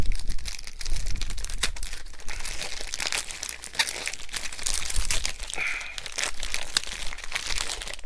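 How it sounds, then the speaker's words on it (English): Package wrapping, likely paper or plastic, is torn open during a book unboxing, giving a steady run of close, crinkling and ripping rustles for several seconds with no talking. "hopefully I can just tear this off"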